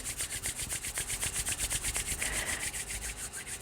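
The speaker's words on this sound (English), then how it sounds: "Then you're gonna rub your palms together, create some heat, create some energy." Palms rubbed briskly together during a yoga stretching session: a fast, even swishing of skin on skin at several strokes per second, close and steady, with no voices.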